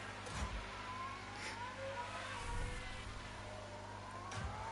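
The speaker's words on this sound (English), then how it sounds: "Almost sounds like the limiter is jammed on." A damaged Formula 1 car engine revs in the F1 Manager 22 racing game, held high and steady as if jammed on the limiter. Faint rising and falling whines from other cars pass behind it at low volume.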